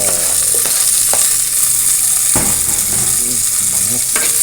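Garlic and onion fry in hot cooking oil for a sardine and vegetable dish, giving a steady, loud hiss throughout with a few clinks and stirring scrapes over the sizzle.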